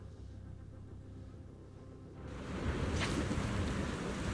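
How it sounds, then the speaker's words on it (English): Steady rain in the video game Zenless Zone Zero, a soft hiss that swells louder partway through and continues as a dense, even wash with no voices. "It's raining."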